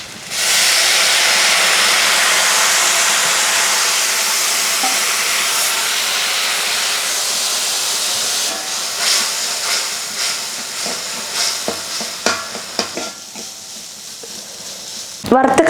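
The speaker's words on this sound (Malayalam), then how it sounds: "അപ്പോൾ നമ്മളിതിലോട്ട് ഇനി പുളിവെള്ളം ഒഴിക്കുക." Tamarind water poured over ginger frying in a pan sets off a loud, steady steam-and-sizzle hiss lasting several seconds, then thins into clattering utensils and stirring.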